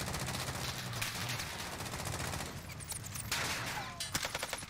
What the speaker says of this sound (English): Great recoil control with the AMAX.